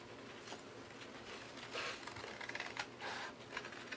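Scissors snip through faux fur and backing material while trimming cosplay ears, a string of quiet, close, irregular crisp cuts with no talking.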